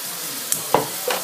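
Onions frying in a pan for spaghetti bolognese, a soft steady sizzle with a few brief stirring clinks and scrapes, close and fairly quiet with no voices.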